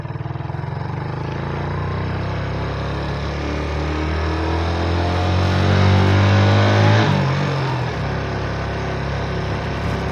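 A motorcycle engine runs on a quiet village road in Vendée, a steady low throbbing hum that swells slightly as revs rise, then drops back to a calmer idle near the end.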